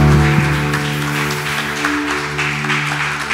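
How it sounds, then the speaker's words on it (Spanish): A church congregation applauds warmly, steady dense clapping sustained throughout over sustained musical accompaniment. "Un aplauso con todo tu corazón."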